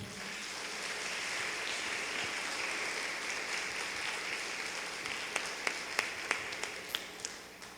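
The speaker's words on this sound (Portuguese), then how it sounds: "Aplauda essa palavra." A church congregation applauding during a family-week testimony service; soft, dense clapping at a distance, with a few sharper nearby claps standing out toward the end.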